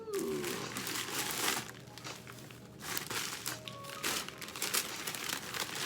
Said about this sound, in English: I got this paper to unwrap